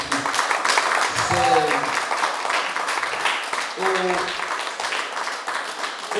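A church congregation applauds a visiting brother during a sermon, steady, fairly loud clapping throughout with a voice speaking over it twice.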